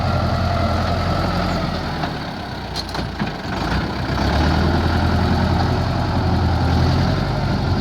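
A heavy diesel tractor engine runs loud and steady close by while ploughing, a continuous rumbling drone that dips briefly before settling back to a constant roar.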